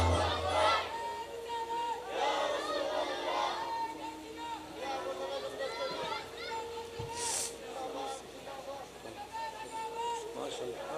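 Crowd at a religious sermon gathering chanting takbir, Allahu Akbar, many voices rising together in rhythmic calls with a leader's voice over a microphone, loud and reverberant in a large space.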